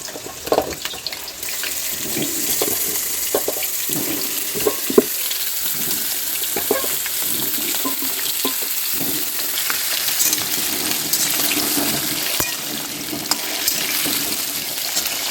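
Tap water runs steadily into a sink as cut vegetables are rinsed in a home kitchen, a continuous close splashing with scattered clatters and knocks.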